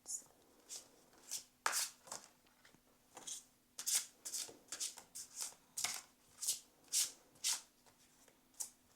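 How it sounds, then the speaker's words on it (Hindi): A deck of tarot cards is shuffled close by in repeated short riffling bursts, about one every half second, over a faint steady hum. "let's shuffle your cards"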